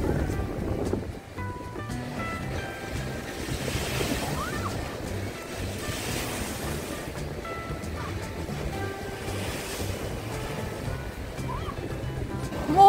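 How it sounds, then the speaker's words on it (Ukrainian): Stormy Black Sea waves at Odesa wash and crash steadily along the shore, a continuous broad surf roar mixed with wind buffeting the microphone, heard without talking. "Подивіться, які хвилі."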